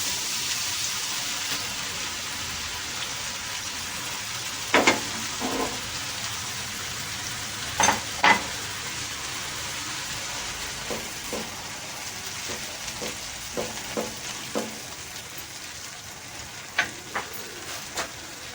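Tomato and green chilli paste sizzles in hot oil in a pan, a soft steady frying hiss with scattered sharper crackles and pops throughout.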